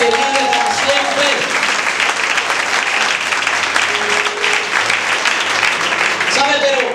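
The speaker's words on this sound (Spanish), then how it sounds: "Vamos a dar un fuerte aplauso al que vive para siempre." A church congregation bursts into loud, sustained applause that fills the room for several seconds, with voices and shouts mixed into the clapping.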